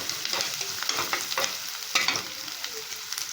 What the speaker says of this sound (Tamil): இப்போ பச்சை மிளகா போட்டு வதக்குறேன்.